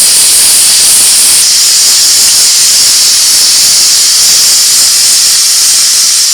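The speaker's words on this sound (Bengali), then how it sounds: "তিনটে সিটি পড়ে গেছে এবার নামিয়ে নিচ্ছি" Steam shrieks and hisses out of a pressure cooker whistle, loud and steady without a break, close by on the stove.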